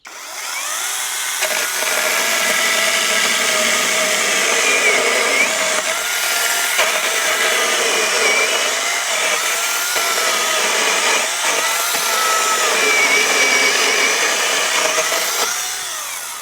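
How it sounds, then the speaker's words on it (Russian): A SHIDOKU SH PG2 12-inch cordless telescopic chainsaw whines at high, steady revs for a long stretch, cutting through wood with slight shifts in pitch, close and loud. "давайте один рез сделаем"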